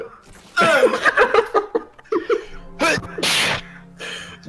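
A sharp sneeze bursts out indoors, surrounded by laughter and chuckling from a few people, with gasps and brief bits of talk in between.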